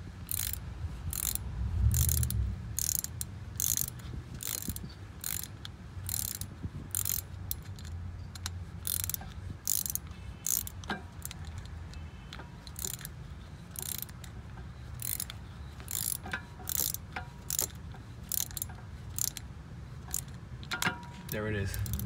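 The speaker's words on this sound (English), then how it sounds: "here I have my ratchet, and as you can see, it's turning" Ratchet clicking steadily as it turns the rear caliper piston on a 2018 BMW X1 with an electronic parking brake during a pad swap, a long run of close, evenly spaced sharp clicks.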